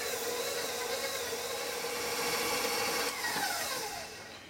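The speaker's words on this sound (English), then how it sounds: "So you take your stand mixer," A stand mixer creams butter and sugar, a continuous whirring motor hum with a steady rhythmic churn, fairly quiet and close, dropping off slightly at the end.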